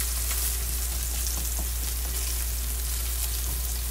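Flounder frying in olive oil, a steady close sizzle and crackle of hot oil running without a break, with a constant low hum underneath and no voices.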